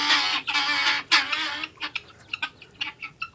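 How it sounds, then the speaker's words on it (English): Guinea fowl calling inside a chicken coop, a run of loud harsh repeated squawking cries up close, giving way to shorter scattered chirps and clucks. "I don't think these guineas are gonna be any quieter"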